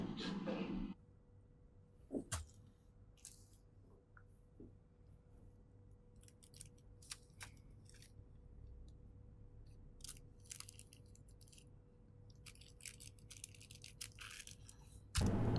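Scissors snip through pieces of dress fabric in short, irregular cuts, close and fairly quiet against a soft steady background hum, with no one talking.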